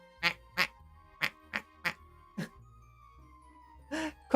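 Short, bright quack sound effects from a livestream command fire in a quick series of about six bursts, then a longer final blare, with a faint tone held underneath.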